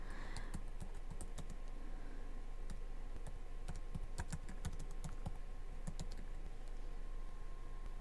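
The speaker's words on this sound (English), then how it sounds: "you kill the scrolling words by typing in their corresponding term and pressing enter" Someone types on a computer keyboard while playing a Quizlet game, giving quiet, irregular clusters of key clicks over a steady low hum, with no talking.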